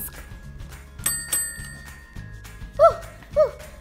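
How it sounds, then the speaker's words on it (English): A desk bell at a hotel-style front desk is struck twice, two bright ringing dings that ring on briefly, over a quiet room with some faint low background sound and no talk. "But wait, I see a bell on the desk."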